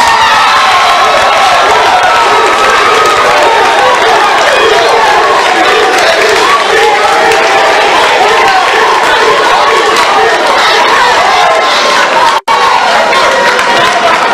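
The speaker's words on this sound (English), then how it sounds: "A round of applause, please, for" A studio audience on a Ghanaian television show cheers and claps for a third-place contestant, a loud, continuous crowd roar of shouts and applause with voices rising through it, broken once by a brief dropout near the end.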